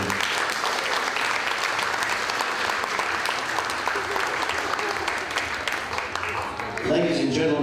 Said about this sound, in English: please join with me in congratulating the bride and groom with a round of applause